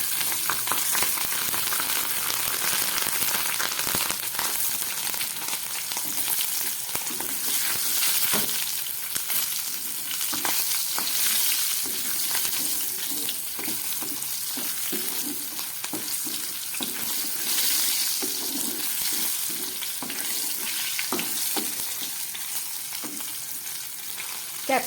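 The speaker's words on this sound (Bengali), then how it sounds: "ক্যাপসিকামটা অনেকটাই ভাজা হয়ে গেছে।" Capsicum pieces frying in a pan with dried red chilli, garam masala and cumin give a steady, close sizzle with frequent stirring scrapes throughout, with no talking.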